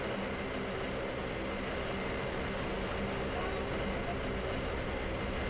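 A passenger airplane takes off in a flight simulator game, its engines a loud, steady roar that runs unbroken from start to end.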